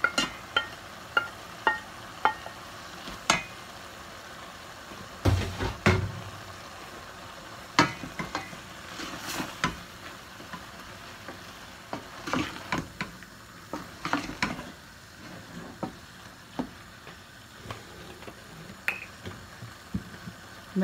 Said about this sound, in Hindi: अब ये वाला प्याज भी इसमें डाल दूँगी और साथ ही ऑयल या घी डाल के भून लूँगी।